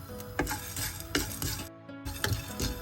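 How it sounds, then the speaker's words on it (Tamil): Fennel seeds, cumin and black pepper dry-roast in a pan for Tamil-style mutton curry, with repeated scraping stirs and light rattling of seeds against the metal, close and fairly loud, with one short silent gap. "கொஞ்சமாக பெருஞ்சீரகம், கொஞ்சம் சின்ன சீரகம், அதோட கொஞ்சம் மிளகு, இதை நான் முதல் வறுத்தெடுக்க போகிறேன்"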